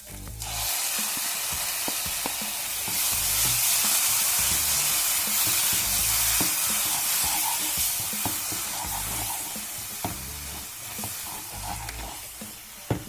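Tomato puree hits a hot pan and sizzles hard, a loud spattering hiss that carries on steadily for over ten seconds, thick with small pops and crackles, heard close with no speech.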